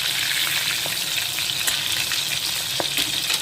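Prawns fry in hot oil in a pan with a steady, close sizzle, broken by occasional stirring scrapes and small pops, with no voices.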